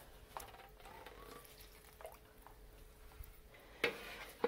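Small splashes and drips of water while house plants are watered indoors, faint and sporadic with a couple of sharper splashes near the end, over a quiet room hum.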